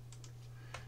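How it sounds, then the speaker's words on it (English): Keystrokes on a computer keyboard during drafting work with line-based surfaces, a few quick separate clicks close by, a pair early on and a sharper one near the end over a steady low hum, with no voices. "You notice I'm typing it."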